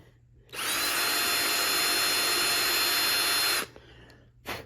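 A power drill drives screws into a Gotoh 510FX-7 bridge on a Jackson JS22-7 seven-string guitar: one loud, close whir lasting about three seconds, then a short second burst.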